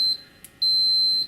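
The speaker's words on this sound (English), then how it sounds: "the instrument will beep." A multimeter in continuity test mode gives a steady high-pitched electronic beep, a short tone followed by a longer sustained one, close and clear in a quiet room while a steam generator iron is being tested.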